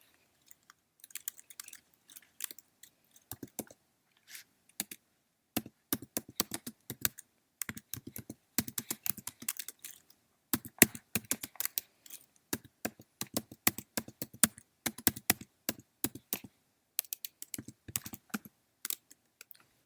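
Bursts of rapid keyboard typing, crisp clicking keystrokes in irregular runs separated by short pauses, close and clear with no talking.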